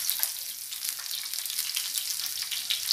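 Brinjal slices frying in oil, a dense, crackling sizzle that holds steady and close throughout, with no voices.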